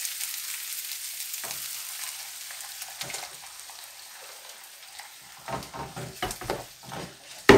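Ground ranchera sauce poured into a pan with fried tomato, a steady hiss of sizzling that builds into louder bubbling spatters and stirring, with no talk.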